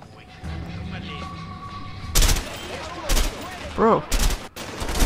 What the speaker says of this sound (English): I'm getting shot, lad.